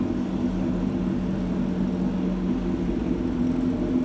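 A Suzuki GSXR 1000 fitted with an SC Project exhaust rumbles close by at low revs. Its deep engine drone holds steady and even, with no sharp rev spikes.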